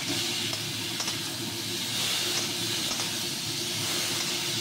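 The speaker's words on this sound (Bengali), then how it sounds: "এবার আমি এতে কুসুম কুসুম গরম জল দিয়ে দিই।" Warm water hits sautéed spices in a hot pan, producing a loud, continuous steamy hiss that holds steady throughout, with faint clicks beneath.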